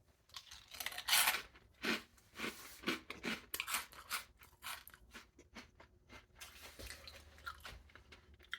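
Someone chews dry Cocoa Pebbles cereal close to the mic, a series of crisp irregular crunches and bites that fade into softer chewing, with no talking.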